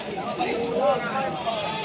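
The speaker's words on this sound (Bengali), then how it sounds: "এই ভাই কাছে একটা ছাগল আছে দেখেন" A goat bleats with a wavering cry at a rural livestock market in Rajshahi, close and clear amid people talking nearby.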